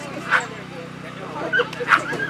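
A ten-month-old dog up for adoption at an outdoor waterfowl festival at a Michigan state recreation area gives short yips and whimpers, a few high cries close by amid steady crowd chatter and voices.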